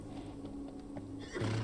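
A horse whinnies in a roleplay video game as it is stabled, a drawn-out tonal neigh that rises into a louder, shriller burst near the end, heard alone without talk.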